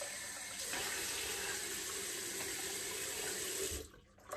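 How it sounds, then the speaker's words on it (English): Tap water runs steadily into a sink to rinse alum off after a shave, a close, continuous splashing stream that stops abruptly near the end. "Rinse the alum off."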